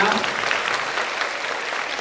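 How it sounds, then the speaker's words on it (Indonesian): A crowd of students at a university welcome event gives lively applause, a dense continuous patter of many hands with voices mixed in underneath. "sekali lagi berikan tepuk tangan yang meriah untuk Karatu Tisha"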